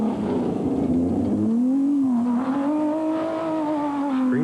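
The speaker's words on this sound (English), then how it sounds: "Scream that engine." A four-cylinder off-road race car from the SCORE Primm 300 desert race roars past the grandstand, its engine note dropping and then climbing steadily into a loud, sustained scream near the crowd.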